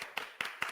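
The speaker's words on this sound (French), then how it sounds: "applaudissons le courage de Xueman" Three short bursts of hand clapping, each a quick crisp smack, spaced evenly and close by, with no voices over them.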